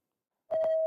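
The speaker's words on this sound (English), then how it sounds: "Let us hear the sound of the buzzer from Brentford International School" A quiz contest buzzer from Brentford International School sounds at a school quiz competition after a moment of silence. It is a single loud, steady electronic tone that holds until the end.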